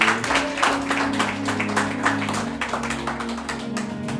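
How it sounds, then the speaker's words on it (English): A church congregation at a Sunday service claps hands together, a brisk rhythmic patter of many hands over a sustained low musical hum, moderately loud and continuous. "Let's clap hands for them."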